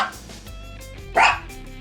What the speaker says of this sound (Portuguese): quando toca a campainha ele late que nem um doido